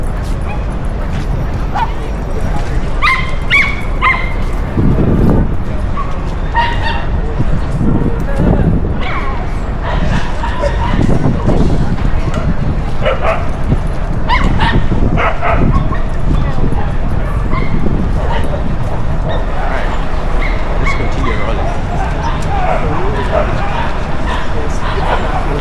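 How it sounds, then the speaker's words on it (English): Several dogs bark and yip at a dog park in Madison Square Park, Manhattan, including a small Chihuahua, with sharp repeated barks, whimpers and scattered yelps over constant city ambience and people talking nearby. "Chihuahua is disturbing the peace of other dogs."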